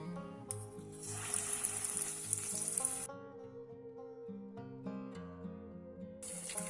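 Spoonfuls of chard and cheese fritter batter dropped into hot oil, raising a bright hiss of frying that swells and fades over soft background music, quiet and close.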